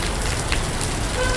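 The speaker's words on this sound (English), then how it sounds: "Today we have too much raining in Hanoi." Heavy rain falls in Hanoi's Old Quarter, a dense, steady hiss of drops drumming on surfaces that stays loud and unbroken throughout.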